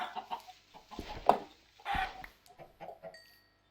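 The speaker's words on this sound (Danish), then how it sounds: "Kyllinger!" Minecraft chickens cluck in short, scattered bursts over a few seconds, fairly close and moderately loud, with a few sharper game sounds mixed in.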